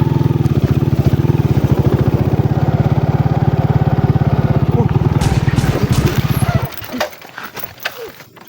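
A motorcycle engine runs with a steady, fast putter close by, then cuts off abruptly after about seven seconds, leaving scattered faint noises.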